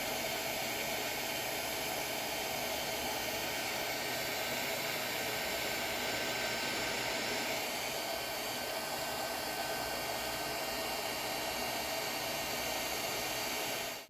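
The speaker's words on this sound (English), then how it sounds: "use a hairdryer to shrink them" A hair dryer blows continuously with a steady, airy hiss that holds at an even level throughout, used to heat-shrink parts, with no other sounds.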